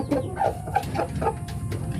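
Super jalur chickens cluck in a steady series of short, close calls, about one every third of a second, with no talk over them.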